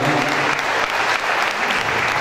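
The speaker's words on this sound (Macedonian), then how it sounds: "ќе ви молам да дајете една аплауз за незината Каролина" Steady audience applause for Karolina, a photo-calendar model, at a backstage anniversary event, dense continuous clapping filling the room at close range with no talk over it.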